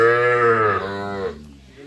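Young Sahiwal-cross calves and heifers at a cattle market, a single loud close moo with a strong harmonic tone that fades out after about a second.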